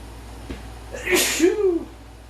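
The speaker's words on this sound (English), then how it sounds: "oh, hang on, that made me sneeze" A single close sneeze bursts out sharply, with a short breathy intake and a brief voiced tail afterward, against quiet background hum.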